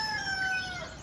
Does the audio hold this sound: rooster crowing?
yes